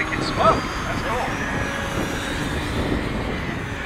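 An RC model airplane engine drones at a distance during an airshow, a steady moderate buzz with a faint rise and fall as it passes, beneath outdoor wind and background noise.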